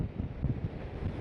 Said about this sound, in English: There's 50-mile-an-hour gusts this morning.